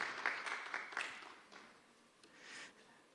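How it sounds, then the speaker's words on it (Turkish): An audience at a panel on teacher training applauds a plaque presentation: scattered, distinct hand claps from a modest crowd that thin out and fade after a couple of seconds. "Alkışlarınızla plaket takdimi için Doktor Niyazi Altunya'yı sahneye davet ediyo"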